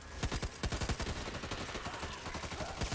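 Rapid gunfire in the co-op zombie shooter Back 4 Blood, a run of sharp shots in bursts with a steady rattle of fire and no talk over it.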